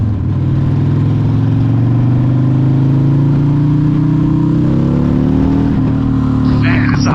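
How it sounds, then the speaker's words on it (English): A 1995 Harley-Davidson Sportster with an Evo 1200 V-twin roars steadily and loudly throughout, its pitch rising gradually as it accelerates, with a rough throaty rumble and wind noise. "It's a roar of a Evo 1200."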